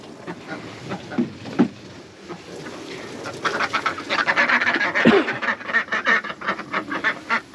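Pekin and mallard ducks quack repeatedly at close range on a farm, sparse calls at first building into a dense, continuous chorus of overlapping quacks.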